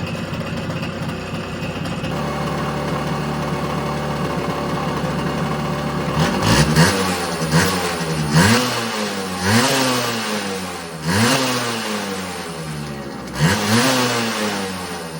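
A 1976 Yamaha FS1E two-stroke moped engine warms up, idling with a buzzy putter before being blipped repeatedly, each rev rising and falling in a rhythmic series, close by.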